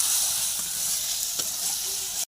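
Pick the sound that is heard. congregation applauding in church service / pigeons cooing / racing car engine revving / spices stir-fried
spices stir-fried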